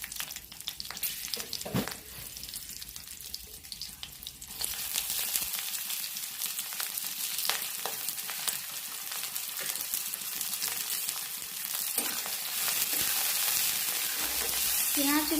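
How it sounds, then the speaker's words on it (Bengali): Dried red chillies crackle and sizzle as a tempering in hot mustard oil, with a busy frying hiss and occasional stirring clatter that grows louder and fuller partway through, with no talking. "তেলটা গরম হয়ে গেছে, এখন আমি লঙ্কাগুলো ফোড়ন হিসেবে দিয়ে দিচ্ছি।"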